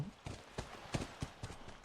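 Horse hooves clop in a steady, even rhythm, about seven distinct strikes, fairly quiet and close, in the video game The Last of Us on PS3.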